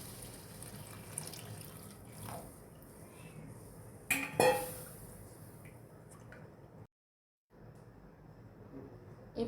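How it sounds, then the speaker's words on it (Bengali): Milk is poured into a pan of fried masala for Bengali wedding-style egg korma. The liquid gurgles and splashes in a short, louder burst midway, surrounded by low kitchen clatter and a soft sizzle. "এই পর্যায়ে আমি দুধটা দিয়ে দেবো এখন।"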